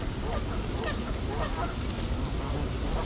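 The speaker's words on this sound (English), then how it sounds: "I think this is a goose" A goose honks repeatedly, loud and close, in a series of rough nasal calls over a noisy outdoor background.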